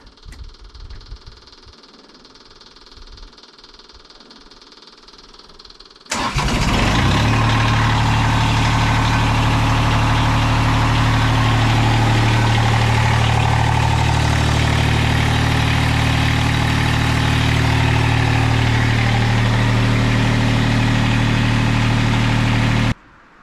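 A repaired machine with a newly replaced hydraulic part cranks and starts after a few quiet seconds, then settles into a loud, steady engine idle running continuously to the end.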